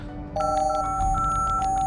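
A phone keypad in the Lost Records: Bloom & Rage game beeps out a number, with short tones and steady pitched notes running over a quiet background.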